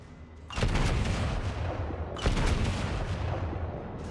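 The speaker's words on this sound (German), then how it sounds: "Immerhin jetzt mal gezielte Einzelschüsse." Naval gunfire from World of Warships, the battleship Kongo firing its main turrets: two heavy booming salvos, the first at about half a second and the second near two seconds, each followed by a long rumbling decay.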